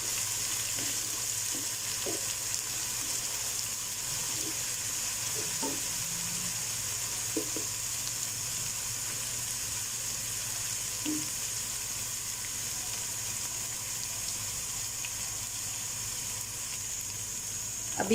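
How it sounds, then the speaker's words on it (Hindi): Ginger garlic paste frying in hot oil for a bhuna namkeen gosht, a steady close sizzle with occasional clinks of a stirring spoon, no talk. "अभी अदरक लहसुन के पेस्ट को 1 से 2 मिनट के लिए मैंने अच्छे से भून लिया है।"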